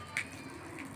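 A soft pigeon coo with a brief brighter chirp near the start, quiet against faint outdoor background, no talking.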